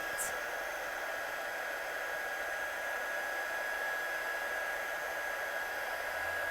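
A hair dryer blows steadily to dry wet paint in an art studio, a loud continuous whooshing roar with a thin whine running through it, close and unbroken, with no talking.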